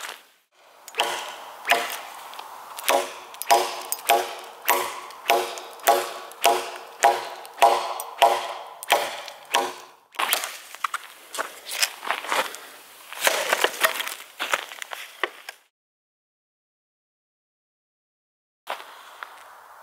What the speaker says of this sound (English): All I've got is this very baby machete. So I'm going to use that to get some wood